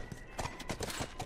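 Horse hooves from The Last of Us video game clip-clop in a quick uneven rhythm at middle distance, several light strikes within a second and a half over a soft background.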